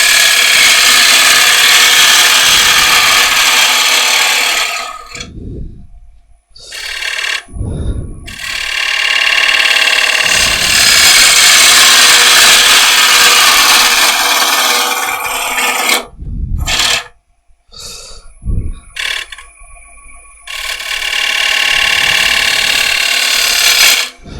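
Turning tool cutting away waste wood to shape a bead on a spindle, a steady scraping rasp in long bursts broken by brief pauses.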